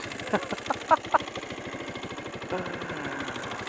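A trail bike engine runs on rural backroads between Agusan del Sur and Lanao del Sur, giving a steady rhythmic thrum of firing pulses, with a few short sharp sounds and voices near the start.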